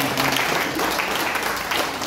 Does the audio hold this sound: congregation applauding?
yes